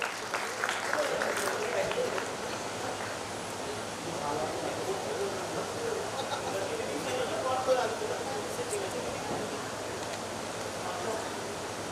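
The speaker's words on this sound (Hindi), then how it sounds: "कृपया तीनों पदाधिकारियों का ताली बजा के स्वागत करें।" An audience at an office-bearers' oath-taking ceremony claps continuously in welcome, a dense, sustained patter of many hands heard at moderate distance in a hall.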